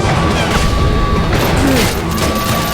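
Loud, dense grenade explosion in Call of Duty: Modern Warfare 3, with a heavy boom and crashing debris, continuous roar throughout, no talking.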